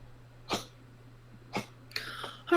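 A small dog coughs in short, sharp bursts, three or four hacking coughs spaced apart against a quiet background with a low steady hum.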